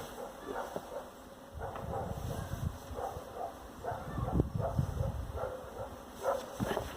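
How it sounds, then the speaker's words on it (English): A dog barks and whimpers in short, irregular bursts throughout, fairly close in a noisy indoor room, with a person making faint background sounds and a steady hum underneath. "I want you to stop barking."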